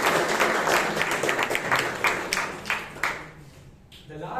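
A Toastmasters meeting audience in Bangalore applauds, a close, busy patter of clapping that stays strong for about three seconds, then thins and fades out, with some voices underneath.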